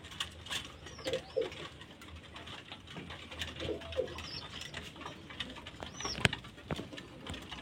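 Pigeons coo inside a pigeon house at feeding time, soft low calls returning at intervals, with light rustling and faint background noise throughout.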